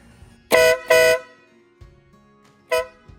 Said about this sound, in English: to our air horn.